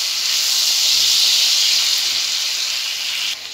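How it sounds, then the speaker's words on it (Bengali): Fried cauliflower tossed into a hot pan and sautéed, a steady loud hiss and sizzle holding for several seconds before dropping off slightly at the end, with no talk. "এবার দেবো ফুলকপি, ভাজা ফুলকপিটা আমি দিয়ে দেবো,"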